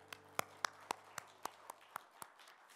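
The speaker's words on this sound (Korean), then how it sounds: "우리 하나님께 영광의 박수 올려드릴까요?" A church congregation at a Friday evening service claps in unison, about nine sharp, evenly spaced claps at a brisk steady beat in an otherwise quiet room.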